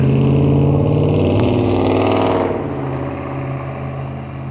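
A loud engine roars close by with a steady low drone, then fades somewhat as the vehicle moves off.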